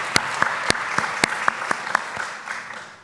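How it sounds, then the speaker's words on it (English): Convocation audience at Yale-NUS College applauding President Roberts: a steady wash of many hands clapping with a few sharper individual claps standing out, moderately loud and fading slightly at the end. "So once again, a hearty applause for President"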